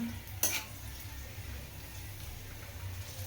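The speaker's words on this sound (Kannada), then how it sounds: "ನೋಡಿ ಎಷ್ಟು ಬೇಗ ನಿಮಗೆ ರೋಸ್ಟ್ ಆಗ್ತಾ ಇದೆ ನೋಡ್ತಾ ಇರ್ಬೋದು ನೀವು ರೋಸ್ಟ್ ಆಗಿದೆ ಆಲ್ರೆಡಿ" Food roasts in a pan with a soft, steady sizzle and a brief clink of stirring near the start, close and fairly quiet, with no talking.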